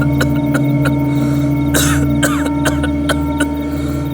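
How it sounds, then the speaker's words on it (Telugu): Coughing from a man, a quick run of harsh coughs and throat clearing heard close up over a steady background hum, with no talk. "ఏంట్రా దగ్గుతున్నావేంట్రా?"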